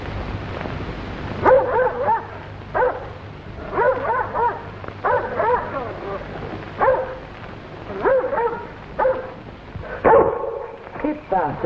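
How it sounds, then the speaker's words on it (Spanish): A dog barks repeatedly in short bursts at night, close by, with people talking throughout in a 1955 Spanish-language film. "A este perro le da por vigilarme. Cuando llego tarde me ladra."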